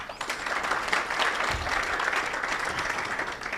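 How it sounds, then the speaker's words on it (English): An audience at a Nairobi AI town hall event claps together for a speaker, a thick, even wash of applause that holds steady for a few seconds. "I think we can clap for him."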